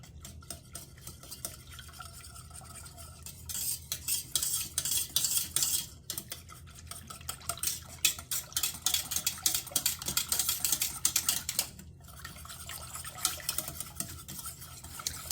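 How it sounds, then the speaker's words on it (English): A whisk scrapes and clinks steadily around a pot of homemade barbecue sauce made from canned tomato sauce. The rapid metallic stirring is fairly quiet and close, and it grows busier partway through. "let's whisk all this together"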